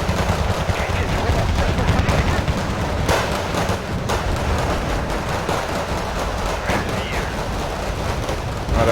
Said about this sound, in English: 40 Soviet infantry out in the open. Getting hammered by artillery.